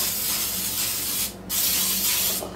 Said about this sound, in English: I'd rather overspray it than underspray it